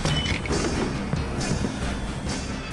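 In a reenactment of a low-flying plane passing over, a house shakes under a dense, loud rumble with scattered creaks and rattles running throughout.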